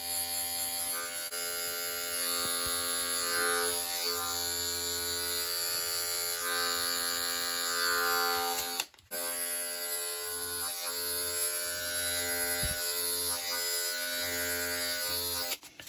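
Andis electric hair clippers with guards, used to fade a haircut, give a close, continuous buzzing hum with a brief cutoff midway before resuming steadily.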